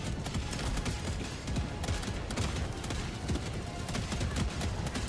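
Cannon and weapon fire in the video game Helldivers, a dense barrage of rapid, overlapping bangs and crackling bursts that continues without letup.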